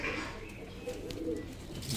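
High flyer pigeons, large-bodied birds kept as a pair, coo softly in a steady low murmur close by, with faint chirps over a continuous background hum and no talking.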